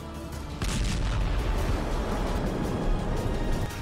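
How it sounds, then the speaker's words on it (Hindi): A Russian T-72 tank hit by an RPG explodes with a loud, sustained roar of blast and rumbling debris that swells after a brief lead-in and keeps going. "इस वीडियो में यूक्रेन का एक सैनिक रूस के टैंक पर आरपीजी से निशाना साधता है और फिर देखिए कैसा धमाका हुआ।"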